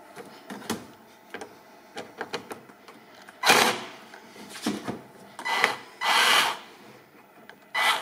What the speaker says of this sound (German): Damit es schneller geht, habe ich hier auch einen Akkuschrauber.